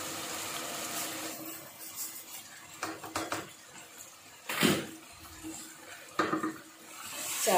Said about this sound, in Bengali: এবার আমি পোলাওয়ের চাল দিয়ে দিব এখানে